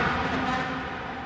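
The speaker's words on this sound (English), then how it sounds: "So I wanted to make a lead sound something almost like a horn, but more scary." A scary, horn-like synth lead built from stacked wavetables drones as a dense, sustained tone, steady and fairly loud throughout the short stretch.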